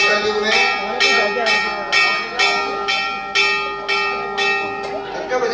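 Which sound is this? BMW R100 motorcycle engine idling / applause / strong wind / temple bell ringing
temple bell ringing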